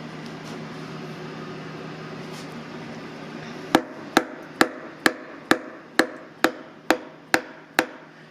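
Ten sharp, evenly spaced taps ring out as pistons with rings are tapped into a Subaru engine block, following a stretch of quiet workshop hum.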